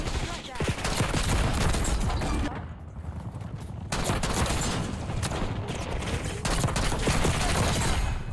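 Rapid, loud shotgun blasts from an ASG-89 loaded with Dragon's Breath rounds in Black Ops 6 multiplayer, repeating through most of the stretch with a short lull midway, dense gunfire dominating throughout.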